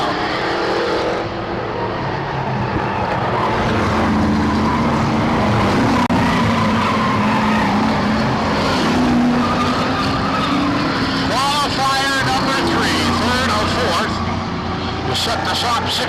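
Race cars roar around a speedway in an international event, engines droning continuously with passing whooshes and tire squeals, loud and steady beneath a commentator's running talk.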